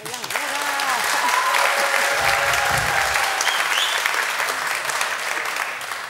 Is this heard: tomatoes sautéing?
no